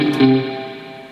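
A Fender-style spring reverb effect in Amplitube 5 rings out after a guitar note, with a sharp attack that decays into a long, shimmering metallic tail, loud and alone.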